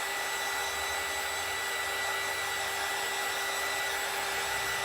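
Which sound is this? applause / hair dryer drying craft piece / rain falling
hair dryer drying craft piece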